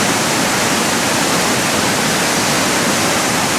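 Steady, loud broadband roar of rushing water at Muktinath, a continuous torrent with no pauses and no voices over it.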